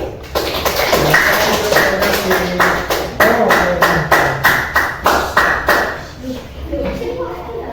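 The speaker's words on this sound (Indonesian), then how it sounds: "Tepuk tangan." Students in a classroom clap after a group presentation, a run of loud, fairly regular claps from a group close by, with voices mixed in beneath them.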